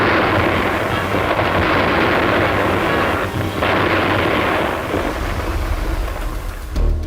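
Russian artillery cannon fire in wartime footage, a dense rumbling barrage of heavy booms blending into continuous roar, loud and sustained, with no speech.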